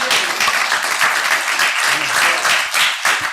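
A gathered crowd at a building dedication gives sustained applause, loud dense clapping throughout with faint voices mixed in.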